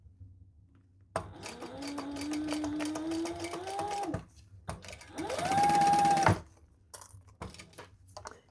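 A sewing machine bastes leather wallet pieces in place, running in two close, whirring bursts of stitching, the second faster and higher, with brief quiet gaps and small handling clicks around them.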